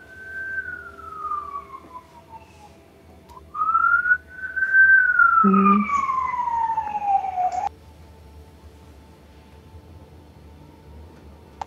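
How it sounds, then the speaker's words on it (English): An ambulance siren wails past on a road near a senior's home, its sweeping tone rising and falling clearly for several seconds before cutting off, with a steady low rumble underneath. "An ambulance."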